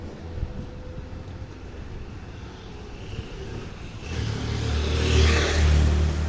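A car passes on the street outside. A low, distant hum swells over the last couple of seconds into a louder whoosh as the vehicle goes by, with no talk.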